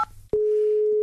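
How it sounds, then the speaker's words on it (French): A telephone call tone sounds after a short click, a single steady electronic tone holding loud and unbroken for most of a second, with no talking. "Ok Brigitte, j'appelle Pierre Arditi."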